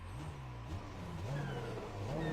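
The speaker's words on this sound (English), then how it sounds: "Let's see what a BMW V8 sounds like." A BMW M8 with its V8 engine revving in the iRacing simulator, a droning engine note rising and falling through several throttle blips, steady and moderately loud without any talk.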